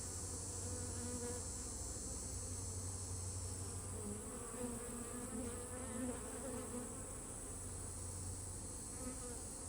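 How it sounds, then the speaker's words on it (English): Bees swarm around an open beehive during an inspection, a dense, loud, continuous buzz that wavers in pitch as insects fly close by, with no talk. "I got a bee trying to sting me."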